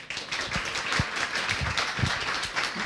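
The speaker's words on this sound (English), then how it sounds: "please can I have a big applause to start the masterclass" Audience at a sommelier wine-tasting masterclass claps in a short, moderately loud burst of scattered individual hand claps, with sharp separate claps standing out against the room.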